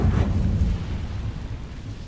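A fire spell, Incendio, cast in the video game Hogwarts Legacy: a loud, low roaring burst that rises over the first quarter second, then a steady, rumbling crackle of flame that slowly fades, with no voices.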